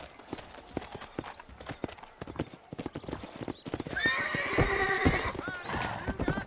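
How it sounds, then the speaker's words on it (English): A horse in the video game Red Dead Redemption gallops with rapid rhythmic hoofbeats close up, then whinnies loudly near the end, with some talk mixed in. "Mount my horse."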